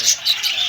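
Pet lovebirds give a quick run of sharp, high chirps, loud and close, with no voices.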